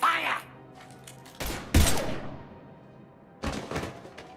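Gunfire erupts in a Mass Effect firefight: a few heavy, separated bursts of shots and thuds at moderate distance, with faint talk and background tones between them.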